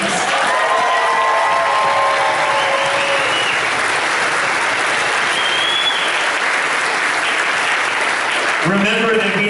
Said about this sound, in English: So one more round of applause for all the SALT band students.